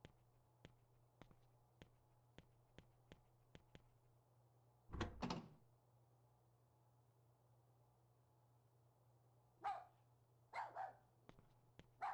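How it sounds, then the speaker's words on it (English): Dog barking in the Rule of Rose horror video game, a few loud bursts of barking separated by quiet stretches, with sharp ticking clicks and a low steady hum beneath. "the dog is just barking right now"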